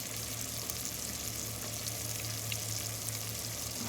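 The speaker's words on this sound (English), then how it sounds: "bacon's sizzling up nicely here" Bacon frying in a pan, a steady close crackling sizzle that carries on evenly throughout with no voices.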